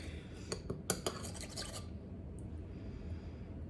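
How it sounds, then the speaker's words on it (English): Utensil clinks and scrapes against a bowl as honey is stirred into a spicy egg roll dipping sauce in a home kitchen, a quick burst of several close taps followed by quiet room noise. "Give it a good stir."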